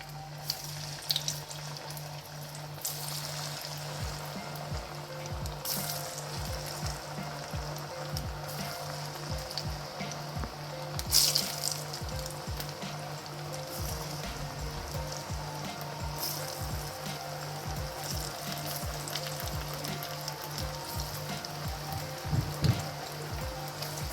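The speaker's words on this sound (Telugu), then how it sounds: "నూనె వేడైంది కదా, దీంట్లోకి మనం ఈ వడలు యాడ్ చేద్దాం." Protein vadas fry in hot oil with a continuous close crackle and sizzle, scattered pops and a low steady hum underneath, and no talking.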